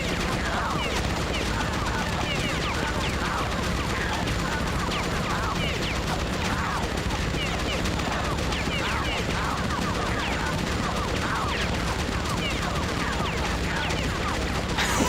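Sustained, dense gunfire rattles nonstop in the video game Oddworld: Munch's Oddysee, a steady loud barrage that continues for the whole stretch.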